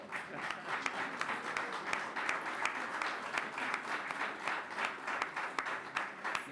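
An audience at a Greek Independence reception hosted by the New York City mayor applauds in a dense, sustained patter of many hands clapping, fairly distant and even throughout.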